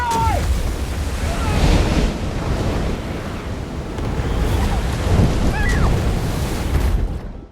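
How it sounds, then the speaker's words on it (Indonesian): A big storm at sea in a film scene, with rough surf and waves crashing, wind buffeting and low rumbling thunder, loud and continuous as it swells and surges. "badai besar bergerak menuju pulau"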